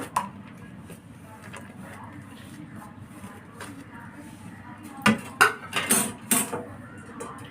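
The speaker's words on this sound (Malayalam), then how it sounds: "ഇനി ഇതിലേക്ക് ഞാൻ സവോള ഇട്ട് കൊടുക്കുന്നുണ്ട്" Sliced onion goes into a pan for a quick snack, bringing a cluster of close clattering and scraping bursts toward the end after a stretch of low, steady background noise.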